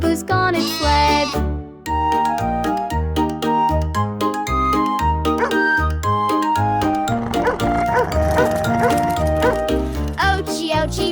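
Cartoon dog barks and whimpers inside a bouncy children's nursery song about farm animals getting hurt, blended with sung vocals, piano and jingly backing music that plays continuously and loudly throughout.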